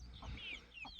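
A hen clucks among a barnyard flock of chickens, two short, fairly close calls about half a second apart over a steady low background hum, with no talking.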